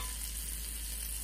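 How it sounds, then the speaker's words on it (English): Onion and garlic sizzle in melted butter in a pot, making a steady, dense hiss that holds level throughout with no voices over it. "I love that sizzle"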